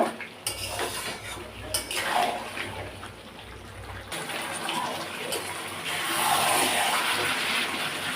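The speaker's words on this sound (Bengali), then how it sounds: "এখন কষানো আলুগুলো দিয়ে দেবো। আবারও কিছুক্ষণের জন্য কষিয়ে নেব।" Sautéed potatoes and meat being stirred in a pot for a meat curry, with metal spoon scrapes and clatter against the pot, a faint wet sizzle and a brief murmur of voice in the background.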